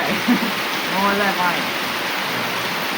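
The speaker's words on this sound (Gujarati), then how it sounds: "આજે જો એટલો વરસાદ અમારે વરસી રહ્યો છે" Heavy monsoon rain pours steadily in a dense, hissing wash, with a faint voice briefly audible beneath the downpour.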